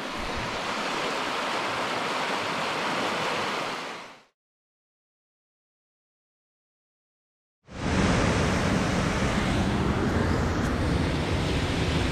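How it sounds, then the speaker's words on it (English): South River Fall near Guysborough Road in Nova Scotia gives a loud, steady roar of falling water heard up close. The roar drops to silence for a few seconds in the middle and then resumes just as strong, with no voices. "So this is South River Fall, maybe 500 meters from that Guysborough Road"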